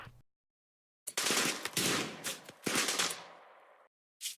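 Combat gunfire in the RimWorld video game, with bursts of shots in clusters separated by silent gaps and a short final burst, moderately loud and with no speech.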